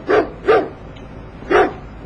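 A dog barks three loud, sharp times close by, two in quick succession and then one more after a short pause.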